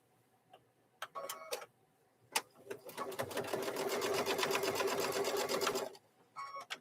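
A sewing machine stitching the corners of fabric microwave bowl koozies: short stitching bursts, then a steady, close whirring run of several seconds, with more brief bursts after it; no voices.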